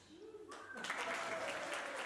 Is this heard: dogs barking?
no